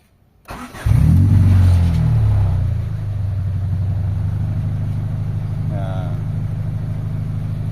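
A Honda Civic ESi engine cranks and catches with a sharp rev, then settles into a steady low idle, close and loud, with a voice speaking briefly over it.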